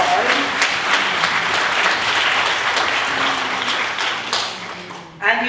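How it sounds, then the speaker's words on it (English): Sustained applause from an audience at a principals' retreat opening ceremony, dense steady clapping filling the hall for about five seconds before tapering and stopping abruptly. "I think director deserves another more robust round of applause."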